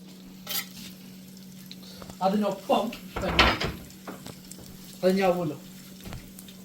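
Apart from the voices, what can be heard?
garlic frying in a little oil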